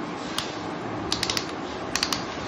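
A toy is twisted again and again to wind it tight, giving quiet, close ratcheting clicks in short quick clusters over a soft background.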